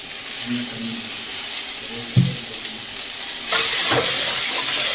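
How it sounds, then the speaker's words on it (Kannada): Radish pieces fry in a small amount of oil in a pan, a soft sizzle with occasional stirring clinks, then a louder, brighter hiss swelling in toward the end. "ಸ್ವಲ್ಪ ಹಸಿ ವಾಸನೆ ಹೋಗೋ ಥರ ಸ್ವಲ್ಪ ಫ್ರೈ ಮಾಡ್ಕೊತೀನಿ."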